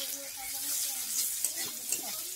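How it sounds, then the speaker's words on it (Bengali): Onions frying in a pan for a Bengali fish curry with elephant foot yam and Malabar spinach stems, a steady close sizzle with occasional stirring scrapes and soft clinks. "পেঁয়াজগুলোকে ভেজে নেবো।"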